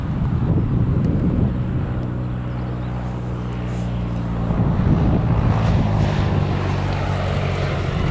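Small propeller aircraft comes in low to land, a nearby droning hum with a pulsing low tone that steadies, then rises into a broader rush as it passes, with no talking.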